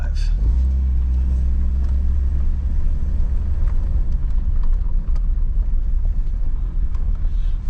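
A Jeep bought cheap at a salvage auction, running for its first drive in three years with soft brakes, gives a steady loud low engine rumble and road noise throughout, heard close up without a break.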